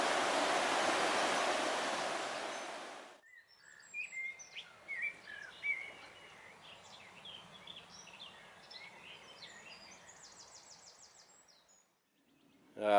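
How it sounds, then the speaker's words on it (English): The River Wye pours loudly at first, then settles into a soft, steady flow while birds chirp and sing nearby. "lovely sounds of the river"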